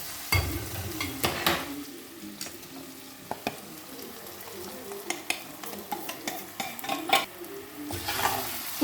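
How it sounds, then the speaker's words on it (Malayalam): Coriander and chili powder frying in oil for beef varattiyathu, stirred with a spoon that scrapes and taps the pan in irregular strokes over a low, steady sizzle, close and fairly quiet. "ഇത് നന്നായി ഇളക്കി കൊടുക്കുക"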